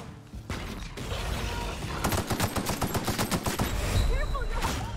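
Rapid automatic gunfire in The Outer Worlds, a run of closely spaced shots in the middle of the clip over busy game sounds and mechanical clatter.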